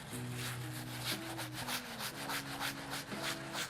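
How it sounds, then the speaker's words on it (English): A brush with cleaning solution scrubs an Off-White sneaker in circular motions, giving a close, steady, rhythmic rubbing swish, with a faint tonal hum underneath. "Then go ahead and scrub in a circular motion."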